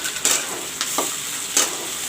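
Bay leaves, cinnamon and cloves sizzling in hot oil for a chicken jhol, a soft steady hiss broken by a few faint clicks and stirring sounds, fairly quiet and close.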